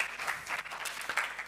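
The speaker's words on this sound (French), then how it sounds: "est-ce qu'on peut vraiment donner une bonne main d'acclamation pour la louange?" Audience applause in a church after a worship song, a broad wash of clapping that holds steady for the whole short stretch at moderate loudness.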